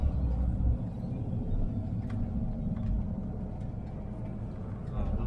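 A Volkswagen Split-window Kombi drives along with a steady, low engine drone and road rumble heard from inside the cabin, continuous and even.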